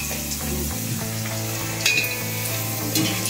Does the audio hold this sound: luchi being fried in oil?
yes